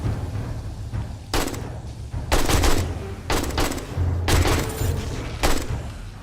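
Semi-automatic AK rifle fire in 7 Days to Die during a blood moon night, several loud bursts of quick shots spaced about a second apart, heavy and booming, over a steady game background rumble.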